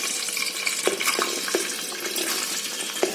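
Chopped onion goes into hot oil in a pressure cooker while masala rice is being made. A soft crackling sizzle runs throughout, broken by a few sharp clicks and knocks.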